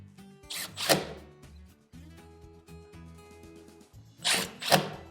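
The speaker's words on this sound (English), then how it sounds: "Drill out for your screws." Two short, loud bursts of a power drill boring screw holes into a wooden cabinet door for a hinge, separated by a quieter stretch of low mechanical humming and clicks.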